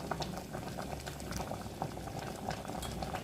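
A pot of bamboo shoot curry with white wood mushrooms bubbles at a steady rolling boil, a dense continuous burble of popping bubbles close by with no voices.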